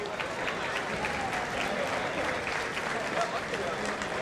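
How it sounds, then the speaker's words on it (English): An audience applauds at a RoboBots 2023 robot fighting competition, with sustained, dense clapping from a crowd filling the space evenly throughout and crowd voices mixed in. "Round of applause, guys."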